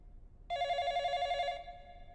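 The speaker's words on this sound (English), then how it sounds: "The phone." A telephone bell rings in one steady, bright electronic burst lasting about a second, starting abruptly and fading into the quiet room of an animated dub.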